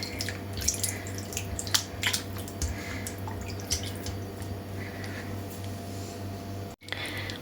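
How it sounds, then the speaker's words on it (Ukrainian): Water trickling and dripping into a bowl to cover pieces of fish set aside for marinating silver carp, a light splashy flow near the mic over a steady background hum. "І додаю сюди трішки водички. Ось так, щоб покрило рибу."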